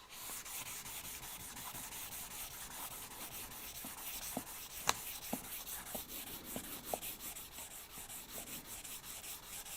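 Fine sandpaper rubbing steadily over a wood and resin piece at 800 grit, a soft close continuous scratching with a few faint taps, quiet overall.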